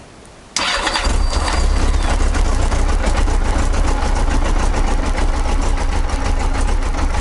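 A Yamaha XJ900 Diversion motorcycle engine fires up without choke on a petrol drip feed, cranking briefly before catching and settling into a loud, steady, close idle that runs on alone.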